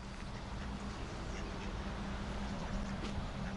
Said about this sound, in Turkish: Burada ördekler var.